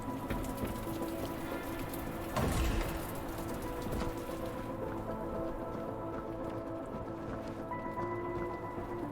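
Heavy rain downpour in the video game The Entropy Centre, a dense continuous hiss of drops pattering on surfaces, with a brief louder splash or thud near the start and a steady wash after.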